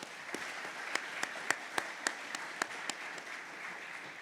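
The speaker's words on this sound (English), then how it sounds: "So one more round of applause, please, for Bruce." Applause at a press conference introducing Bruce Arena as the new San Jose Earthquakes head coach, fairly faint and distant, with a scattering of distinct claps standing out above a soft wash of clapping.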